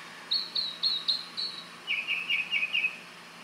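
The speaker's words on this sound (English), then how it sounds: "Hear those birds? Nothing but the birds." Small birds chirp outdoors on a quiet Florida street, a run of five clear, high, evenly spaced tweets followed by a lower quick series, fairly close and alone with no talk.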